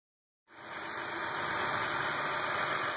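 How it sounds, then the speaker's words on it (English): A BMW car engine fires up after a moment of silence and settles into a steady, even idle, heard close and alone. "start the vehicle and check your pressure"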